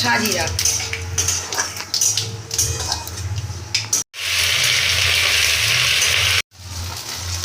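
Whole garam masala spices drop into hot oil in a Bengali home kitchen. Clattering and stirring come first under talk, followed by a loud, steady, close sizzle that cuts off sharply twice.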